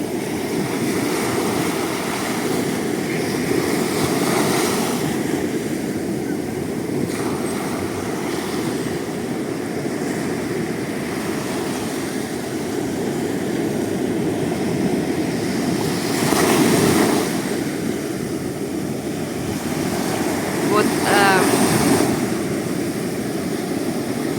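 Ocean waves wash continuously onto the sand at Stidia beach, a steady broadband roar with a few louder surges breaking closer in and no voices.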